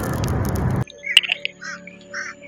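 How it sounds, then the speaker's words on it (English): Birds chirp and call from trees beside a road outside a Target store, with short bright tweets and squawks coming after a burst of loud broadband noise, at moderate distance. "There's a lot of noise. The birds, where are they? Birds on the trees."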